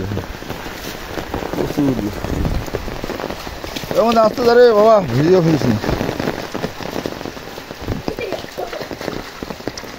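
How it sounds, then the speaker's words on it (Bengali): Heavy rain pours down in a dense, constant hiss, while a person speaks briefly over it partway through. "কি বৃষ্টি দেখুন আমাদের এলাকায়,"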